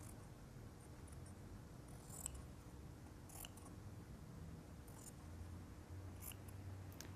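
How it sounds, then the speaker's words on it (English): Scissors trim and clip into a fabric collar, making faint, sparse snips spaced a second or so apart against a quiet low hum. "I'm going to begin my trimming and clipping"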